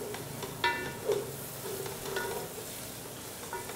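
Coriander leaves are sautéed in a pan for Ambur-style mutton biryani, giving a soft continuous sizzle with a few stirring clinks and scrapes close by.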